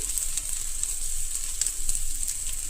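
Taro root (chema dumpa) frying in a pan, a continuous bright sizzle of hot oil with faint crackles, close and steady, no voices.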